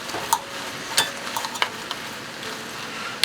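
A spoon stirs tomato paste into cabbage soup in a pot, with soft scraping and a few sharp clinks against the metal over a low, steady simmer.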